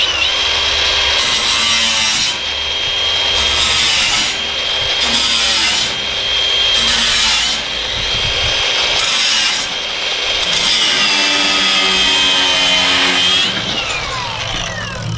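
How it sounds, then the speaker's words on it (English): A Milwaukee grinder cuts metal shelving down to size in long, loud, continuous screeching bursts with brief dips between passes, close up and alone. "So I'm taking my Milwaukee grinder, and I am cutting this down to size."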